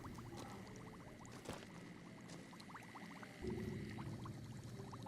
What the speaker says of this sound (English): It's bubbling, but no one's here.